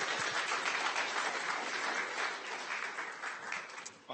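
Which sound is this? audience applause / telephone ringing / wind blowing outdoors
audience applause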